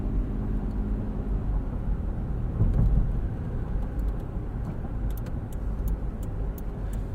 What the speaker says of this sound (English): We'll do some city driving.